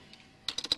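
Fingers tap quickly on a computer keyboard, with about five crisp, close keystrokes arriving in a quick burst after a near-silent start.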